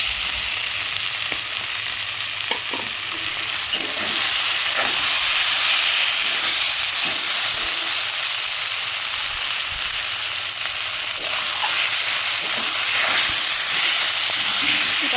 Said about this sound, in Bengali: এবার আমি দিয়ে দিলাম ভেজে রাখা চিংড়ি মাছগুলো